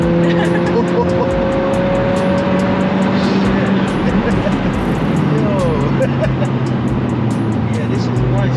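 A Stage 2 VW Golf GTI accelerating hard on the road in sport mode, a loud continuous engine roar heard from inside the car, climbing in pitch, with occupants talking over it.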